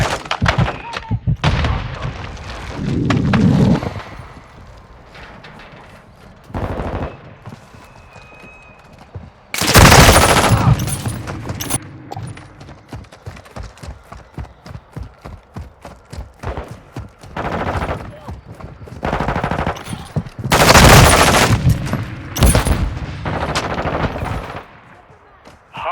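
Gunfire in Call of Duty Modern Warfare 2: loud automatic bursts and rapid single shots, with heavy booms and thuds, in dense clusters separated by short lulls, close and dominant, with game radio voices now and then.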